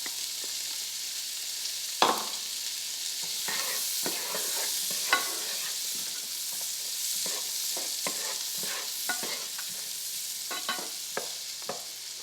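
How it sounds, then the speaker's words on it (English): Diced celery and onion sauté in melted butter with a steady sizzle, broken by scattered scrapes and clicks of a stirring utensil against the pan, close and moderately loud, with no talking. "we're gonna put in 2 stalks of celery and 1 large onion diced. And we're gonna saute these until they are translucent"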